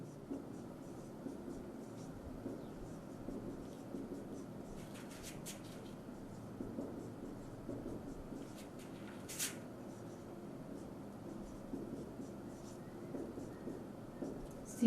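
Matrix values are written out by hand, giving faint, intermittent scratchy strokes of pen or chalk over a quiet room hum, with short bursts of scribbling spread across the stretch.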